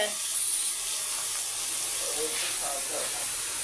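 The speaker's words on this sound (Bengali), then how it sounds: "তো এই কপি ভাজি করছি" Steady bright hiss of cabbage frying in a hot pan, a continuous sizzle that runs throughout with faint voices murmuring underneath.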